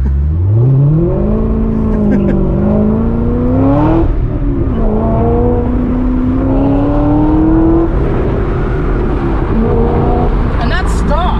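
A stock Chevrolet Corvette ZR1 with traction control off accelerates hard, engine roaring loud and close, pitch climbing through several gear shifts, with people talking over the noise.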